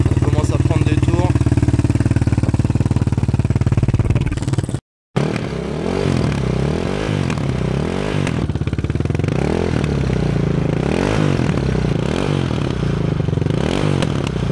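A Yamaha 660 Raptor quad engine, freshly serviced with carburetor repair and tuning, drones loudly, then after a brief cut revs repeatedly in rising and falling sweeps, close and continuous.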